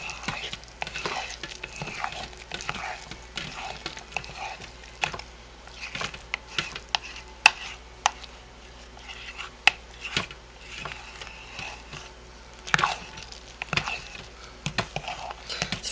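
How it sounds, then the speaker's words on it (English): Homemade lye soap mixture being stirred in a container, with close, irregular scraping and clicking strokes of the spoon, steady and fairly quiet, with no talk. "It's very important that we scoop up from the bottom and we get that stirred up"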